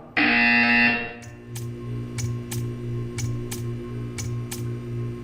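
A buzzer in the video game Portal 2 gives one loud, harsh, sustained buzz lasting about a second, followed by a steady run of sharp ticks over a low electrical hum.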